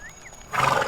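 A horse in the video game Two Worlds gives a short whinny, a brief burst of neighing rising out of quieter game sounds.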